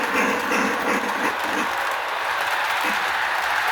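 A small model train locomotive with eight driving wheels running along its track, producing a steady whirring rumble with a faint rhythmic clatter, close and continuous, with no speech.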